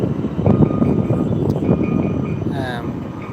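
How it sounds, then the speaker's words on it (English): A tram passing on a Helsinki street gives a low, continuous rumble, with a brief metallic wheel squeal near the end. "Like these trams are everywhere. Like this place is full of trams."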